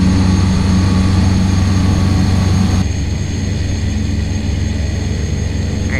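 Cessna Caravan 208 single-engine turboprop at takeoff power, a loud, steady, close propeller and turbine roar that drops slightly in tone partway through as the aircraft climbs.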